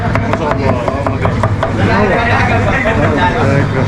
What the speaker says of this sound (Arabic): كل حاجه بيعملوها بسرعه، تقطيع وتجهيز الاكل